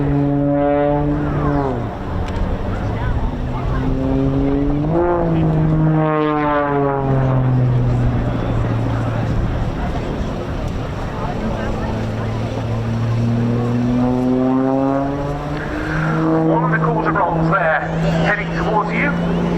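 Extra 300 aerobatic propeller plane at an air display, its engine drone rising and falling in pitch as it descends through a knife-edge spin, heard from a distance with a commentator talking over it throughout.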